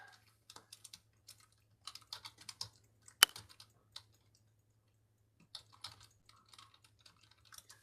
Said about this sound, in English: let me just type this right here